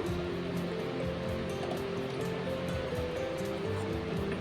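A pot of liquid bubbles on the stove at a steady, dense, close simmer, a continuous rushing churn with no talking.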